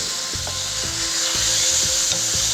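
Chicken frying in a pan, browning and crisping, gives a constant bright sizzle, with soft scraping and knocking as pieces are turned in a steady rhythm.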